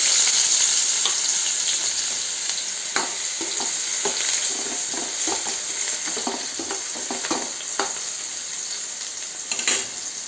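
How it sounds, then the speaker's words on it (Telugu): Chopped onions frying in hot oil for a mushroom curry, a steady loud sizzle with repeated stirring scrapes through the pan, close and without talk. "ఆయిల్ వేడాక ఆనియన్స్ ఇలా చిన్నగా కట్ చేసి వేసుకోవాలి."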